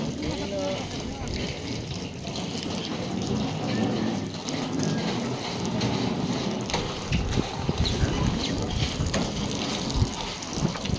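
Steady, dense rain patters and hisses on surfaces around a house, loud and continuous throughout, with scattered heavier drips standing out.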